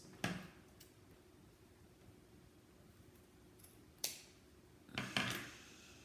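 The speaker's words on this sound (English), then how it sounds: "Scissors." Scissors cut paper for a handmade junk journal: a few short, sharp snipping clicks, one near the start, another around the middle and a quick pair near the end, close and fairly quiet against a soft background.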